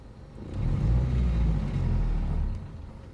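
A 1995 Geo Prizm engine idles close by with a smooth, steady low rumble and faint whir, holding even for about two seconds before easing off.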